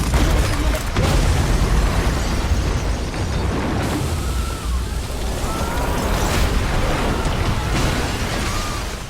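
A sustained, roaring explosion destroys a swimming pool in a film scene, a dense wall of blast and rumble filling the whole stretch before slowly thinning into crackling debris.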